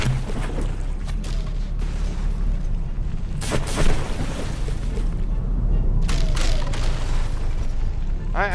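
Battleship guns firing shells in the naval combat game From The Depths, heard as a dense rumbling barrage of booms and bursts that stays loud throughout, with sharper blasts rising out of the continuous low roar.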